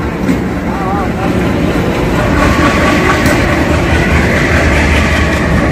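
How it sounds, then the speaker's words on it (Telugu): Continuous rumbling of the Mysore–Kacheguda Superfast Express departing platform 5 at KSR Bengaluru station, steady rolling clatter, close by and loud throughout, some voices faintly mixed in. "Mysuru Kachiguda express KSR Bengaluru railway station platform 5 నుండి డిపార్చర్ అవుతుంది"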